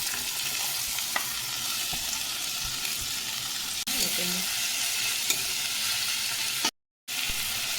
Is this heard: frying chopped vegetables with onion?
yes